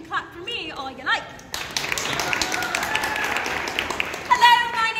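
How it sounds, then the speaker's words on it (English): An audience breaks into sustained clapping for a stage performer after a short spoken introduction, the applause dense and even before a voice returns near the end. "you can clap for me all you like."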